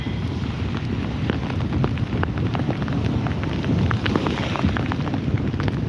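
Heavy rain pours down during Cyclone Montha, a dense, constant roar with scattered sharp drop hits and a gusty, wind-buffeted rush, close and loud, no one speaking.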